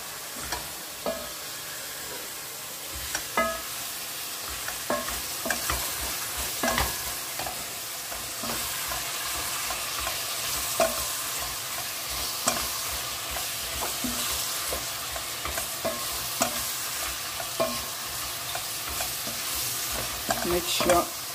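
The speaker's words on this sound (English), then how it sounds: "Stir everything together. Mix it very well with the vegetables." Bolognese meat and vegetables stirred together in a hot pan, a continuous sizzle with repeated scraping and clicking spoon strokes in an uneven rhythm, close and moderately loud with no talking.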